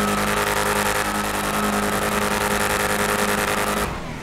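A Lamborghini Urus roars at full throttle during a drag race in the video game GTA 5, a loud continuous engine drone with rising revs that cuts off abruptly near the end.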